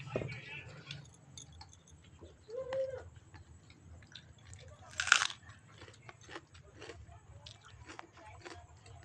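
Fried crab and onions being eaten, with crunchy biting and chewing sounds scattered through a quiet room, one sharper crack standing out midway, and faint background noise.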